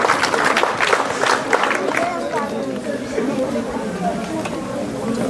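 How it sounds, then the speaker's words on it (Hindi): Audience at a Baba Ramdev Public School toppers' felicitation ceremony applauds a student stepping onto the stage, steady clapping mixed with loud crowd chatter filling the hall throughout. "अयान का जोरदार तालियों से स्वागत"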